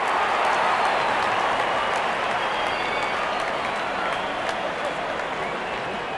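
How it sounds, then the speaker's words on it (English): A cricket crowd at a T20 World Cup match between Sri Lanka and Oman applauds a batsman reaching his fifty, sustained dense clapping from a large stadium audience that slowly eases off. "Wonderful 50 and the crowd applauds."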